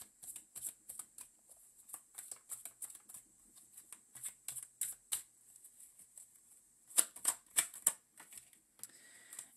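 Tarot cards being shuffled and drawn by hand, a long run of quick crisp riffling snaps and flicks, close and fairly quiet, with a denser burst of card slaps near the end and no talking.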